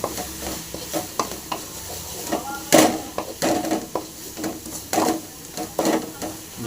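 Egg masala seasoned with coriander powder and fresh coriander, stirred in a pan with a spatula and frying, giving repeated scraping stirs over a soft, steady sizzle; no talking.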